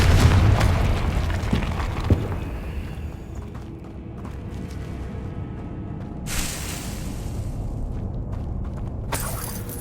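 Confringo blasting spell explosion in Hogwarts Legacy, a loud burst at the start that rolls into a decaying rumble, with a sharp pop shortly after and a brighter crackling swell later on.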